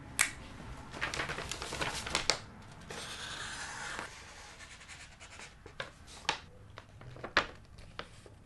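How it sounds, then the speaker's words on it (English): A pen drawing a picture on paper makes soft, close scratching strokes with small taps and pauses, continuing steadily for several seconds. "I will draw you a picture of what it looked like."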